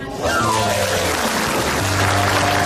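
Studio audience applause on a television comedy show, a dense burst of clapping that starts suddenly and continues loud and steady, with a faint tonal sound briefly underneath.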